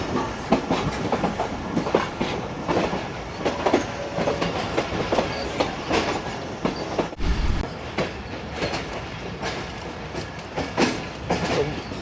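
Musa Pak passenger train running on railway tracks at night, a steady loud rumble with rhythmic clickety-clack of wheels over rail joints, a brief low thump partway through, no voices.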